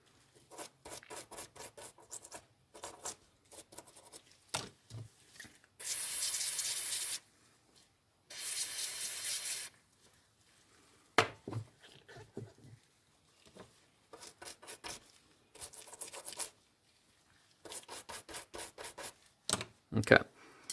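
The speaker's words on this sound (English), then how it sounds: "we're going to take the time to clean off all this old grease and grime and sand or whatever is attached to it here" Old grease, grime and sand being scrubbed off Mitchell 650 reel parts during a restoration: rapid bursts of short rasping brush strokes, broken by a couple of longer hissing sprays, close and fairly quiet.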